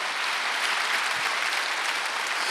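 A church congregation at a Sunday service applauds together in a dense, even wash of clapping that holds steady from start to finish, with no talking over it.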